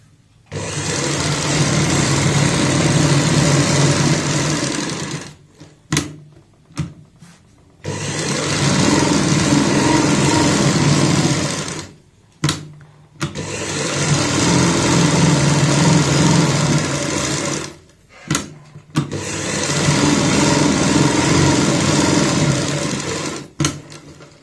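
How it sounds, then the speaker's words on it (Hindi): A sewing machine runs in four long, steady bursts of stitching along the edge of a homemade pollution mask, loud and close, with short pauses between runs and no talking. "अब हमें यहाँ पे किनारी की सिलाई लगानी है।"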